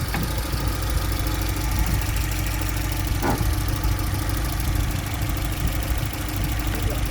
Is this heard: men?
no